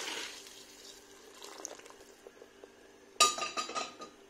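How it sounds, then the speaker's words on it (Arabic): Hot water poured slowly into a pot of chorba, soft trickling and splashing at first, then a sharper, louder pour with clinks of the pot near the end. "نحط توا الماء السخون نتاعي بشوية"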